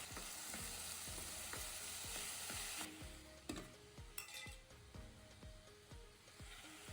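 Onions and tomatoes sauté in a pan with a continuous sizzle, broken by regular rhythmic scrapes of a spoon stirring, heard close and without speech.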